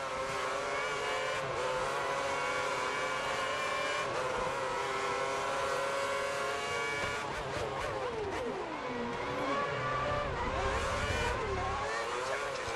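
Race car in the F1 2010 video game driving into the pits, a high continuous engine whine with shifting pitch as it slows and revs, plus a brief lower rumble near the end and game voice commentary.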